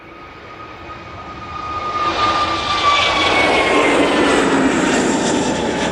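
An EasyJet airliner takes off at Manchester Airport, its jet engines rising to a loud, steady roar with a sweeping whine as the aircraft passes close, heard alone.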